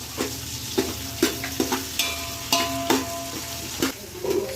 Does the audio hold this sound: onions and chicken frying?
yes